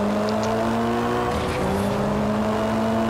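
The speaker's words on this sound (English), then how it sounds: "we've got some ATVs with some buggies in this race" ATVs and buggies racing in MotorStorm through a mud pool, with engines droning loud and steady and tones shifting as the pack revs together, and no talk.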